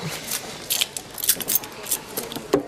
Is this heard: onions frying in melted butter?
no